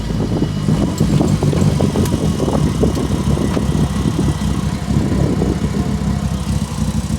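A Mitsubishi Evo engine idles steadily after four years off the road, a loud, close, even rumble that holds without revving for several seconds, with no voices.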